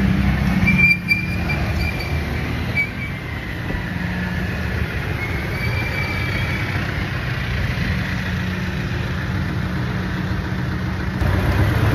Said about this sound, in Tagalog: I am driving the Toyota Tacoma TRD Pro.